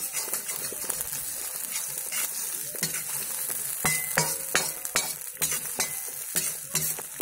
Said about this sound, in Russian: Все перемешаем.